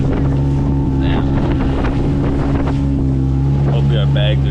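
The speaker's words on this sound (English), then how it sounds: "Windy as hell." Strong wind before a tropical storm at Galibi, Suriname, buffets the microphone with a steady, loud roar and a low rumbling drone that never lets up.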